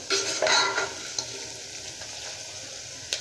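A tempering for fenugreek dal fries in hot oil, a close, continuous sizzle with a few stirring scrapes and clinks, loudest in the first half-second and then settling to an even crackle.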